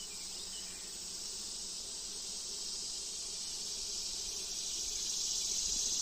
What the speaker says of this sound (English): There's a lot of bees on this frame.